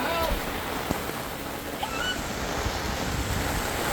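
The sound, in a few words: heavy rain and strong wind during thunderstorm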